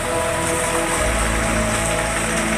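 A downpour in Cibeber drums down hard and evenly, a loud unbroken wash of rain with a low rumble rising partway through.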